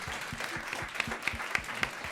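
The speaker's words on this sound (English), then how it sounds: "I'm going to thank everybody who's come out tonight, our actors, our panelists, with one big round of applause" A theater audience gives a round of applause for actors and panelists, a short burst of many hands clapping at close range, dense and even throughout.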